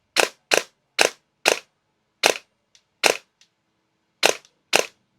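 Sharp cracking shots from an airsoft gun with an AhTech 3300KV brushless motor set to high, fired on semi-auto. Eight loud, close reports come in uneven pairs and singles as it double-fires, with faint mechanical clicks between.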